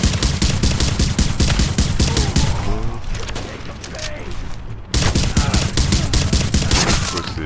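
Automatic turret fire in The Division against incoming Russian enemies, rapid loud bursts of gunshots, a brief lull with scattered shots, then another sustained volley, with voices underneath.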